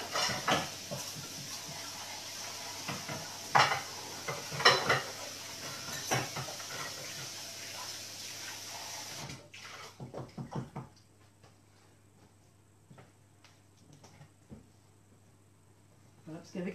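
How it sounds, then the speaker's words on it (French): A saucepan being washed under running water in a home kitchen, a steady broadband hiss of flowing water with clinks and knocks of the pan during the first nine seconds, then the water cuts off leaving faint intermittent handling sounds. "Je lave ma casserole."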